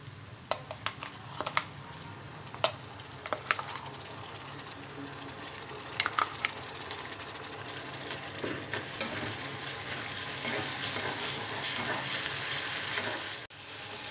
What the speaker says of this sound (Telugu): ఈ పండుమిర్చి పచ్చి వాసన పోయే వరకు ఆయిల్లో బాగా ఫ్రై చేసుకోవాలి.